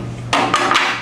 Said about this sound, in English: Again, we'll take our collets out